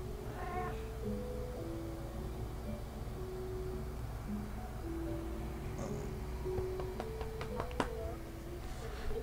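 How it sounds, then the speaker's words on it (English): A house cat meows a few times at a distance over a steady low hum, with short clicks and snaps near the end and faint talk in the background. "I have a crazy cat. He just will not leave me alone."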